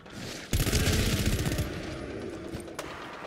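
Rapid automatic gunfire from teammates in the co-op shooter GTFO, a dense burst of loud, close shots that starts abruptly and rattles on for a couple of seconds before thinning into scattered reports.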